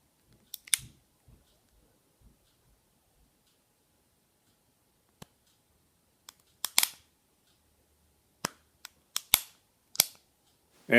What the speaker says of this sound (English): It's a relatively light single action trigger.